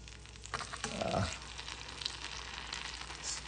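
Slices of French toast (pain perdu) frying in melted butter in a pan, a steady soft sizzle with a brief louder burst as the bread goes in, then settling into an even crackle with no talk.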